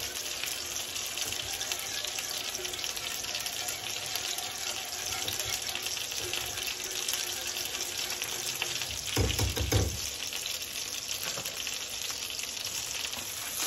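Steady sizzling and bubbling from a pan of chicken and mushroom sauce on the stove, continuous and fairly close, with a brief clatter partway through.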